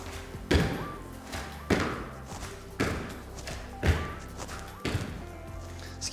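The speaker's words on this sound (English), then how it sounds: "the first exercise we're going to do is a jump squat with a rotation." Repeated heavy landing thuds from jump squats with a rotation during an advanced full-body workout, five or six forceful impacts about one second apart, each followed by a short shuffle, with background music underneath.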